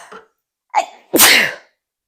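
A single sharp sneeze with a short catch of breath just before it, loud and close, then silence.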